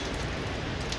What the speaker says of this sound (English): It's raining continuously